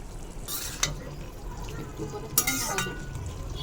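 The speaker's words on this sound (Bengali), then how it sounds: "এখন এটাকে আমরা রান্না করে নেব মাঝে মাঝে নেড়ে চেড়ে রান্না করে নেব" Bitter gourd (karela) cooks with dried taki fish in a curry as a spoon stirs it now and then, giving soft scrapes and a couple of sharper clinks over a low, quiet simmering sizzle.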